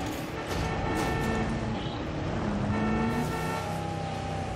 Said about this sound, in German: Ja, ich kann hupen.